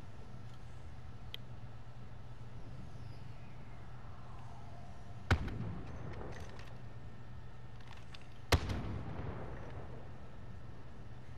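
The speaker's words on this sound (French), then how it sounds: "Qui est-ce qui tire au snipe sans silencieux?" Two loud, sharp unsilenced sniper rifle shots in Call of Duty Modern Warfare on Rebirth Island, each a sudden crack with a short echoing tail, spaced about three seconds apart over a steady low game hum.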